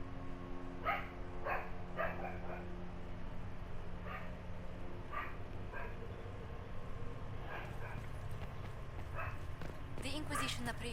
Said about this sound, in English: Come on, dogs, keep quiet.